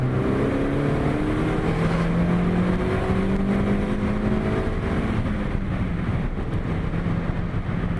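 A small car engine of under roughly 100 horsepower climbs steadily through its rev range, its pitch sweeping upward in a long, loud continuous pull with no talk over it.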